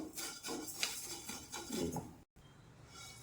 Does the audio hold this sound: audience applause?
no